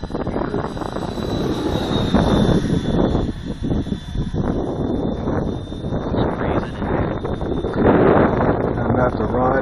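A FreeWing ME 262 RC jet making a pass overhead, a steady ducted-fan whine and rushing drone carried under heavy wind buffeting on the microphone, with people talking nearby.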